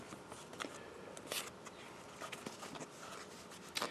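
Thick antique tarot cards being shuffled: soft papery riffling and brushing, faint and close, with a few sharper flicks standing out, and no talking.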